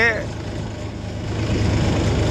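An aging tractor pulling a loaded sugarcane trolley, its engine droning steadily and close underneath continuous talking, with the engine note thickening slightly toward the end.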